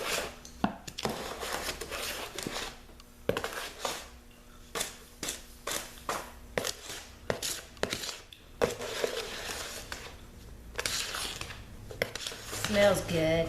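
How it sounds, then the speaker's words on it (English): A whisk scrapes and clacks through a thick, stiff bath bomb mixture for scoopable fizzies in irregular bursts of short scratchy strokes, close and fairly loud, with pauses between and people talking at times. "Let's try to stir for a little bit."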